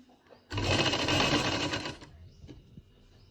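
A sewing machine runs in one steady burst of about a second and a half, stitching a line of fabric while sewing a sleeve design, then stops, leaving faint room noise and small clicks.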